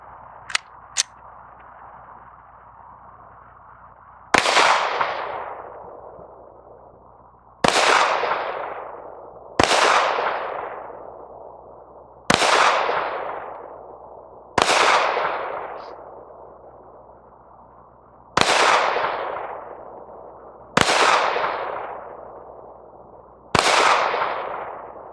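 A Glock 19 pistol fired at a range: eight loud, sharp single shots spaced a few seconds apart, each trailing off in a short echo, with quiet between them.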